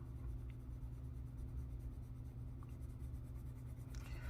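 Colored pencil shading small circles on paper: a soft, steady scratchy rubbing with a faint rhythmic pulse, close and quiet, with no voices.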